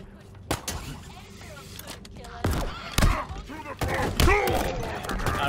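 Grenades going off during a firefight in the Halo Infinite campaign: sharp, heavy thuds and bursts scattered through steady gunfire and game noise, several close together toward the end, with a voice talking over part of it.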